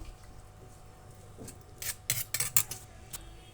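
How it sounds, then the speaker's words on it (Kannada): Custard powder and water stirred together in a bowl for a sweet halwa barfi: soft scraping, then a quick series of close, bright spoon-on-bowl clinks near the end, with no talking. "ಮಿಕ್ಸ್ ಮಾಡಿ ಸ್ವಲ್ಪ ನೀರನ್ನು ಸೇರಿಸಿ ನಾನು ಇದನ್ನು ಎರಡನ್ನು ಕೂಡ ಮಿಕ್ಸ್ ಮಾಡ್ತಾಯಿದ್ದೀನಿ"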